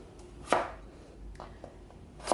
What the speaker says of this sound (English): So you chop it up in about 1-inch cubes, like that.